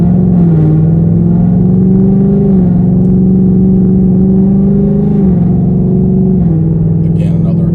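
A 2024 Mustang GT with Kooks Green Catts exhaust accelerates at low revs, its loud, steady V8 drone rising in pitch and then dropping at each upshift, repeating through several gears.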